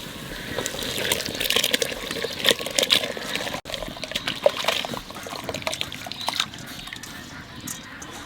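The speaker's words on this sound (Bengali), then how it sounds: "এবার চাল দিয়ে দেবো।" Rice goes into a pot of water with a little oil while cooking fried rice, giving a soft, close sloshing and trickling with scattered splashes and a brief clatter, and no talking.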